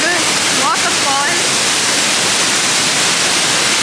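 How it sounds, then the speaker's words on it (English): A large waterfall near Bird Paradise, a loud constant roaring rush of falling water filling the scene, with a few faint bird chirps early on and no break in the noise. "This is like the biggest waterfall."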